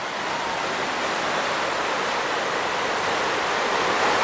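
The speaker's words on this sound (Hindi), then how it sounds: "पानी बरस रहा है" Rain pours down in a steady, dense rush, a loud and unbroken hiss that holds evenly from start to finish with no voices.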